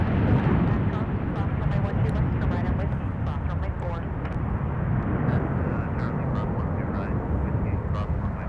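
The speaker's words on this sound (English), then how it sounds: "Shamrock is on final approach" An Aer Lingus airliner on final approach to Minneapolis–Saint Paul airport, a steady loud roar of jet engines that holds throughout with little change.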